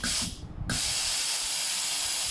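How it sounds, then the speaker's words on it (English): A Philips GC9630 steam generator iron releases a burst of steam as a loud, steady hiss that dips briefly, then resumes and holds continuously. "the steam will come up continuously and you can do your ironing"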